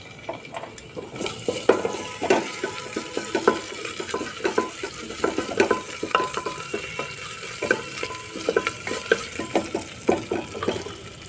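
Ginger paste sizzling in hot oil in a pan with fried onion, coconut and green chilli, a spatula stirring in repeated scraping strokes over a steady, close frying hiss.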